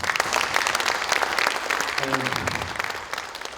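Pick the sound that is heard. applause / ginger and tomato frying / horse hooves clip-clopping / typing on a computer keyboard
applause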